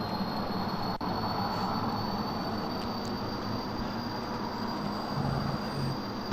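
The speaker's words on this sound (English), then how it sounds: "The plane is accelerating" Jet engine of a spaceplane at full throttle, accelerating at about 20 km altitude in Kerbal Space Program 0.21, a steady loud roar with a faint high whine running continuously throughout.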